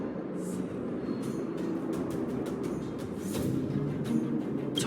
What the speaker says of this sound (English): Do Fragmentum monsters usually sound like this?